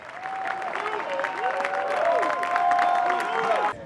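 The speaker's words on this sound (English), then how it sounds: "I'm gonna need y'all to give yourselves a round of applause" A crowd applauds at a Hollywood Walk of Fame star ceremony for Ludacris, continuous clapping with some cheering and whistles layered over it, building slightly before cutting off abruptly.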